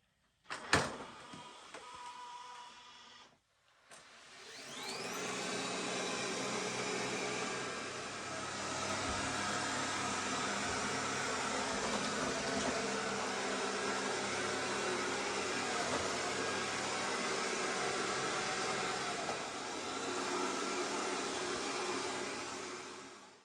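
A Lydsto W2 robot mop with counter-rotating mopping pads gives a steady, moderately loud motor whir that starts after a brief clack and holds evenly for nearly twenty seconds, with no talking.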